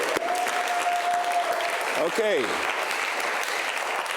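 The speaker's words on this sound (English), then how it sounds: "Let's give him another round of applause." Studio audience applauding a quiz show contestant, a continuous loud wash of clapping with gliding musical tones and a brief spoken word over it.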